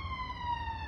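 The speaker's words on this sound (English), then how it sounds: "Just let that police car go by." Police car siren wailing as it passes, a steady high tone, fairly faint and brief, over low traffic rumble.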